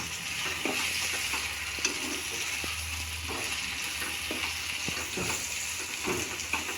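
Chopped tomatoes sizzle steadily in a pan for an egg tomato curry while being stirred, a close, even frying hiss with scattered faint scrapes and clicks of the spoon, and no voices.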